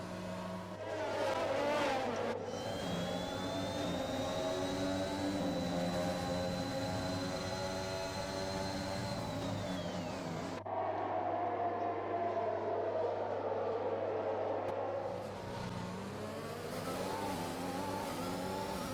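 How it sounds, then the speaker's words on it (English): A Formula 1 car races around the Monaco Grand Prix circuit in the F1 2021 video game, its high engine whine rising and falling through gear changes, with a sharp cut in sound partway through and continuous loud racing noise. "It was just me driving round and round and round with Gasly behind me"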